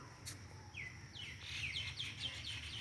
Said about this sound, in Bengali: পাখিরা ডাকছে।